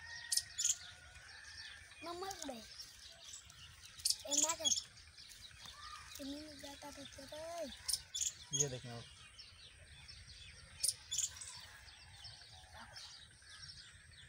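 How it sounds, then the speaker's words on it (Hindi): Pigeons coo in soft warbling calls, close by, scattered among sharp chirps and light tapping, while someone speaks briefly. "अच्छे कबूतर हैं"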